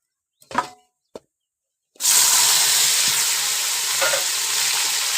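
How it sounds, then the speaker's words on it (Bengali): Chopped tomato hits hot oil already crackling with panch phoron, dried red chilli and bay leaf, bursting into a loud, steady sizzle after a couple of brief knocks and scrapes of stirring. "টমেটো কুচিটা দিয়ে খুব ভালোভাবে নেড়ে নেবো একটু।"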